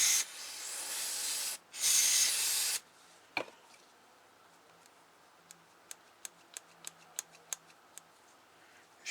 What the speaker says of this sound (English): Spray a little bit in there.